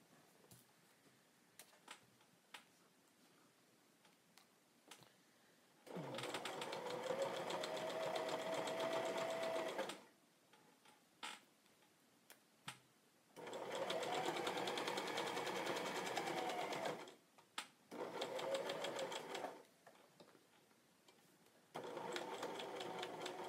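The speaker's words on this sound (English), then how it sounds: "sometimes it helps to swivel as you're going around a curve, but you want to make sure your needle's down inside the fabric" A sewing machine stitches sweater fabric into mittens in three separate runs of steady rapid mechanical chatter, each a few seconds long. Quiet pauses with small clicks and handling noises fall between them.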